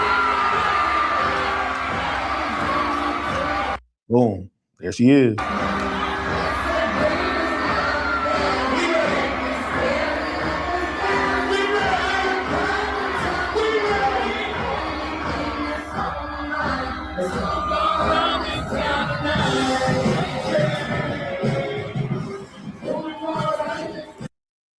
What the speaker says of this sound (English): So, man, the crowd goes crazy.